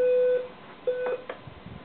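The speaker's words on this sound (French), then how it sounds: "Ça c'est son réveil qui arrête pas de sonner." A bedroom alarm clock beeps in sharp electronic tones, one long beep and then another after a short gap, close and fairly loud, followed by faint handling noises.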